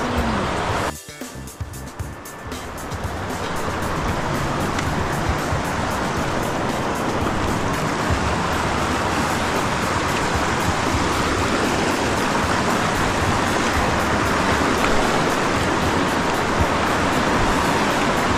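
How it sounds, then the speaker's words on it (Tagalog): Strong current of the Nambalan River in Mayantoc, Tarlac rushes in a loud, continuous broadband roar that swells in after a brief quieter moment and then holds steady. "Yung tubig dito, yung agos niya talagang maririnig mo, sobrang lakas."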